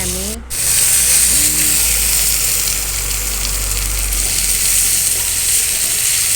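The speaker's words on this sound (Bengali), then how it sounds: "তেল দেওয়ার পর আমি পেঁয়াজগুলো দিয়ে দিলাম, লঙ্কাগুলো দিয়ে দিলাম" Onions and chilies frying in hot oil in a pan, giving a loud, steady, close sizzle that runs continuously; a voice speaks briefly at the start.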